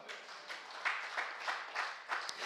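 Applause from a church congregation during a Friday worship service, a steady wash of many hands clapping with rhythmic swells roughly every third of a second, moderately distant and filling the room.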